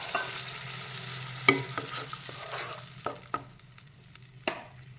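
Pigeon curry frying in a pan gives a steady sizzle, while a utensil stirs and scrapes through it with several sharp clacks against the pan as half a cup of water goes in.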